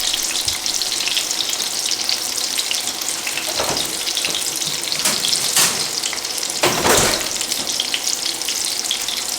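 Fries frying in hot oil in a pan, a steady loud sizzle and crackle with brief bursts of louder spitting, no talking.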